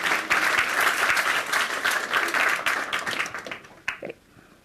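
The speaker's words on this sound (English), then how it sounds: "Can we give a round of applause for our two great volunteers?" Audience applause for two volunteers at an astrophysics public lecture, a dense, steady wash of many hands clapping that thins and trails off into scattered claps near the end.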